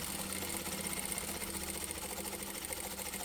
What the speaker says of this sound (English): Now we're going to do a top stitch just along the top edge of both ends